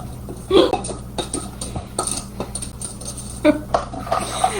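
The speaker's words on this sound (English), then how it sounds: "I'm going to stir it pretty good to mix up that cocoa." A spoon stirs cocoa into cooked quinoa, giving irregular clinks and scrapes against the bowl with a few sharper taps, close and fairly quiet.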